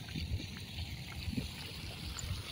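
Water flowing into a rice paddy trickles and gurgles quietly along, with small splashes and bubbles over a low, steady background.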